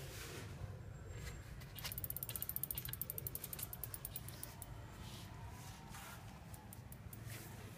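A bicycle's 8-speed rear freewheel ratchets with a rapid, steady run of fine mechanical clicks, close and fairly quiet, speeding up briefly and then easing into a slower ticking as the wheel spins freely.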